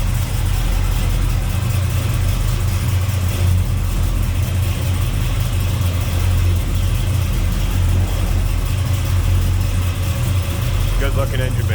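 A 1966 Chevrolet Impala SS with its 396 V8, headers and Edelbrock Performer intake, idles steadily and loudly close by, a constant low rumble running unbroken throughout.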